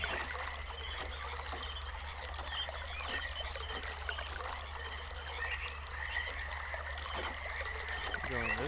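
Trickling water flows steadily in the realMyst: Masterpiece Edition Channelwood area, a soft continuous stream with faint ambient background and a brief splash near the end.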